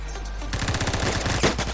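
Automatic gunfire in the video game Phantom Forces, a rapid burst of loud, close shots that starts abruptly and runs steadily, with no talking.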